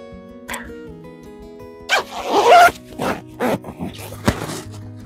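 Zipper on a Japanese-market Fila windbreaker jacket being pulled: a few sharp zipping strokes, close and loud, with one longer rasping pull followed by shorter tugs and fabric handling.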